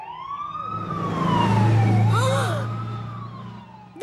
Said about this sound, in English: Oh, I'll turn on the siren.